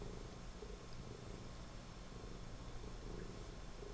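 A cat purrs steadily and very close, a soft continuous rumbling drone with a slow breathing rhythm, faint overall and alone with no voices.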